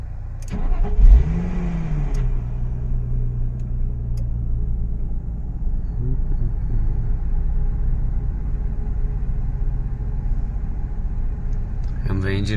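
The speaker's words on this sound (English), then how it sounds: "And the engine is on." A Nissan 350Z engine cranks and fires on a remote timer, a brief rising whir settling into a steady, close, low idle rumble that holds evenly throughout.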